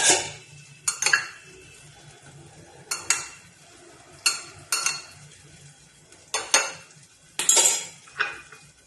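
A spoon repeatedly scrapes and clinks against a pan while cherry tomato sabzi with sugar and salt is stirred, about seven or eight distinct strokes close up, with a faint sizzle underneath and no talking.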